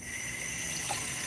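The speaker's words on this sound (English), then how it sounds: "So we'll rinse this" Tap water runs steadily over a four-pound pork roast being rinsed, a continuous close rushing gush with no pauses and no talking.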